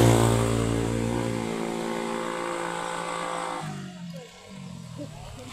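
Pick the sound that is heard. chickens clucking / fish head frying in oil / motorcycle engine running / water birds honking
motorcycle engine running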